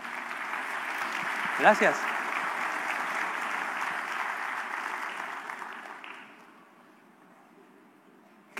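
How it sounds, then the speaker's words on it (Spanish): Church congregation applauding, a sustained broad patter of clapping for about six seconds that then tapers off, with a brief spoken thanks partway through. "Un aplauso por los hermanos"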